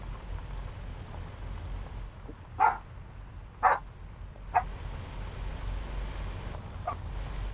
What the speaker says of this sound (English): I have no idea why they're barking.